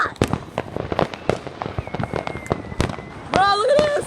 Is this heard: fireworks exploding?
yes